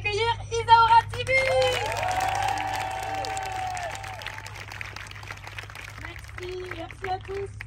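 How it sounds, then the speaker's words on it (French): Guests are welcomed with applause and cheers aboard a barge: a crowd claps and whoops, some cheering voices rise in pitch, and the sound tapers off into scattered voices. "Une heure d'applaudissements pour accueillir Isaura TV."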